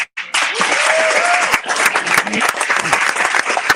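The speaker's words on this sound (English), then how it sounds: "I think that we really deserve a round of applause" An audience breaks into a round of applause for a governor, dense clapping that swells after a brief spoken word and carries on steadily, loud and close, with a voice briefly heard at the start.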